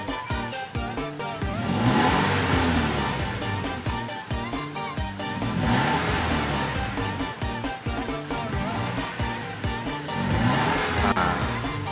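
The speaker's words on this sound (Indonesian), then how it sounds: "saat kita injek gas, jadi gasnya agak lambat naiknya, nggak respon" A Toyota Innova engine with a slow, delayed throttle response revs up and falls back about three times in a row, each rise building to a loud roar before easing off, heard close with no talking.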